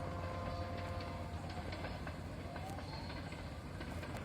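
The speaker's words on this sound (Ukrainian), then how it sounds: "Ну а так потяги в Карпатах, в горах," A train rumbles past in the Carpathian mountains at Yaremche, Ukraine, with a low steady roar and faint rhythmic clicking of wheels on rails, heard from a moderate distance.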